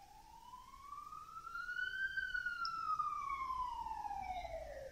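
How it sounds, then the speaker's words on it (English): A police car siren passes outside, its wail rising and falling in one long sweep, moderately loud and steady over faint road rumble, with no talk. "Police siren trying to sidetrack my conversation."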